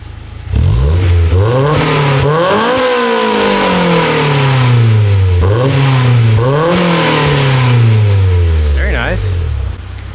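A Honda S2000 with a newly fitted aftermarket exhaust revs hard several times, rising and falling in close loud sweeps with a deep tone. A voice is heard briefly near the end.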